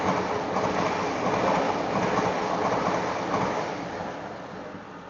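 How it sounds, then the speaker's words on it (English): A train rolls past close by, a loud, steady rumble with rushing wind noise that holds for several seconds before easing slightly as it moves on. "Let's let this train pass."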